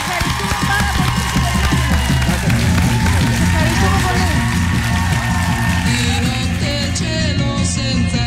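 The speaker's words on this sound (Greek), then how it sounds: "Ένα χειροκρότημα στον κύριο Χάρη Ρώμα." A television studio audience claps and cheers continuously and loudly, with voices mixed into the applause throughout.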